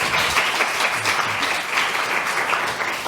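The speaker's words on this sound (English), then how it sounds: "Can we all have another round of applause for a brilliant..." Loud, dense audience applause at a scientific lecture event, a thick, continuous wash of clapping that holds at an even level throughout.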